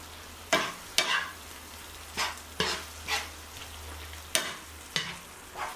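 Food with tomatoes being mixed in a hot pan, around eight separate scraping stirs over a soft background sizzle, each stroke a brief close swish.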